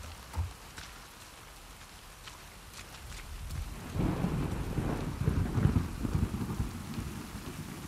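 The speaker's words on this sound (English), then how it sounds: "And of course, it's raining." Steady rain falls with rumbling thunder in the video game The Last of Us Part II, the downpour swelling louder about halfway through and continuing with no voices.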